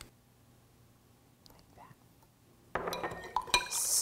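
Spoon clinking against a glass while stirring white vinegar, tap water and pickling salt into a brine; quiet at first with soft whispery sounds, then a burst of close, bright chinks and rattles in the last second or so.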